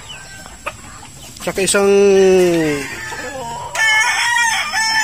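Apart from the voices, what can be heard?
chickens: brood hens clucking and a rooster crowing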